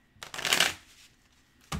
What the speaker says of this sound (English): They shuffle like poor quality cards.